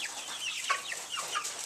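Chickens in a barn cluck softly in short, scattered calls that come from close by, with quiet background between the clucks.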